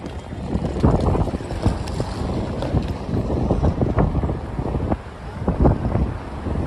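Gusty wind blasts across the microphone on a Midtown Manhattan street at night, a loud continuous rumble with repeated thumping gusts over several seconds.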